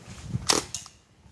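Full-auto airsoft TF 11 rifle firing a short burst of sharp cracks at close range, one strong shot then a second weaker pop, with no talk.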